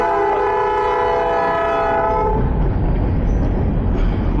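A train passes close by with a loud, sustained horn blast that cuts off partway, followed by heavy rumbling rail noise and wind, heard from a moving motorcycle.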